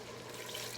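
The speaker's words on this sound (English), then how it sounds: "we're gonna just add the last of the ingredients and close it up. So Haley is gonna put half a cup of cooking wine." Cooking wine poured into a pan while making Cuban picadillo, a steady, close liquid splash and trickle lasting under a second with no voices.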